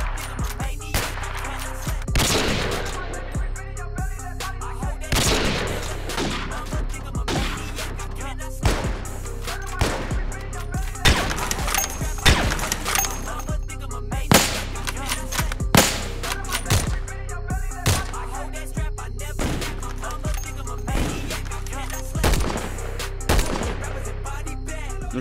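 Rifle gunfire in a video game sounds as loud, close cracks fired singly and in quick pairs at an uneven pace over a steady background hum, with no talk.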